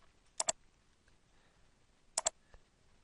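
Computer mouse clicks while working in MS Word 2013, two quick close double-clicks about two seconds apart in a quiet room, followed by one faint single tick.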